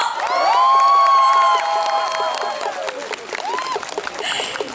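Festival crowd cheering and whooping at an opening-ceremony concert in Okcheon, with a loud sustained wave of shouts from a large audience that tapers into scattered calls and applause.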